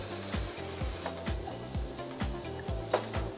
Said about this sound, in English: Remove the protective cover and clean with non-residual contact cleaner or similar.